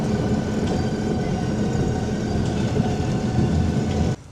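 A theme park monorail rolls along its track with a steady, loud rumbling clatter and faint rhythmic knocks, heard from on board until the noise drops off abruptly at the end.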